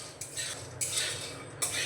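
Peanuts dry-roasting in a pan rattle and clatter as they are stirred, with three louder scraping surges over a continuous close rustle.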